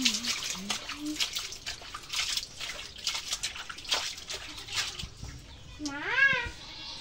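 Small fish are swished and rinsed by hand in a basin of water, with close splashing and dripping; a cat meows clearly partway through and near the end.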